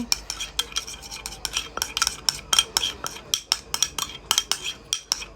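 A spoon stirs sushi ingredients in a bowl, mixing with a steady run of sharp scraping clinks against the bowl's side, close and fairly loud, with no voice over it.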